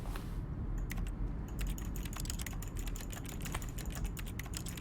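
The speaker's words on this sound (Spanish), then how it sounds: "lo curioso es que le doy al clic y aquí suena también a teclado" Fast, continuous computer keyboard clacking from The Stanley Parable video game runs steadily for several seconds. Each keystroke is crisp and close, with no voices over it.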